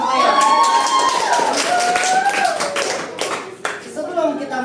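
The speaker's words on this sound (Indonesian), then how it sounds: "Tepuk tangan saya." A class of students claps hands together in a classroom. The clapping is loud and close, mixed with cheering voices and shouts throughout.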